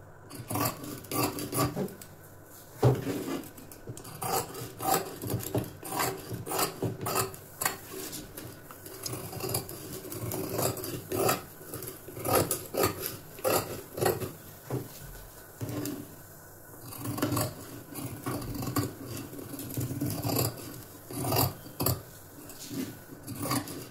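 Scissors cut through blouse fabric in a steady run of crisp snips and soft rustles, close and moderately loud, continuing without pause and with no talking.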